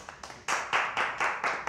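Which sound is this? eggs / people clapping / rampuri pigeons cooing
people clapping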